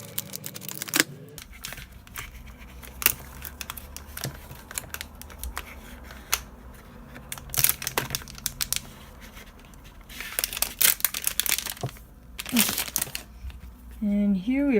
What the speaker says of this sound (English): let's take out some scissors and get this open.